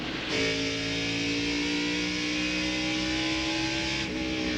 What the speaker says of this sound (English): There is the 36 car of Tim Fedewa, currently being shown in 4th position, riding very patiently in 4th spot.